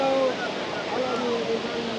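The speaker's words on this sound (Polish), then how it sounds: "Wow. Zobaczcie. Taki wodospad. Piękny." Tumpak Sewu waterfall roars as a steady, loud broadband rush with no breaks, while a voice speaks over it in an excited tone.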